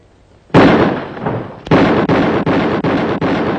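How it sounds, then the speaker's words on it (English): Five rifle shots ring out in quick succession during a sharpshooting contest, one loud blast followed by four more evenly spaced cracks, each with a booming tail. "Drawing fire. 5 shots, 5 seconds."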